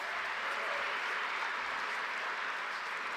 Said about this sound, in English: So give this group another big round of applause, make them feel a bit of love.